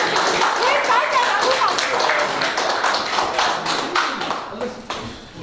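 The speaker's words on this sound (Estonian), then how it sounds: "tehke aplaus" An audience at the award ceremony for the Paul Keres 100 memorial chess tournament claps steadily. The applause is loud and sustained, then thins out and fades toward the end.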